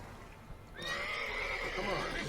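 A horse in Witcher 3 lets out a clear, drawn-out whinny that starts abruptly and carries on for over a second, close and fairly loud, with faint hoof clip-clops beneath it.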